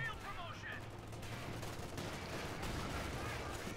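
Heavy machine gun fire in Company of Heroes 2, a steady stream of rapid, fairly faint rattling shots that runs for several seconds within the din of battle, with some speech mixed in.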